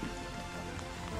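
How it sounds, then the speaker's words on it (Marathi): Monsoon rain falling on a jungle trek route near Panhala and Pavankhind, a brief, even patter of drops striking surfaces, dense and steady with no voices. "आज पावसानं पण लय साथ दिली"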